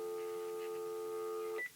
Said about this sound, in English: You can take a landline phone and actually use the dial tone